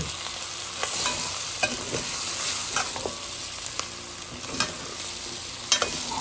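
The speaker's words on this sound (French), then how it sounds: "Mélange un peu" Lamb chop masala is stirred in a pan with a steady frying sizzle underneath, punctuated by repeated scraping strokes and knocks of the spoon spaced every second or so, close and fairly loud.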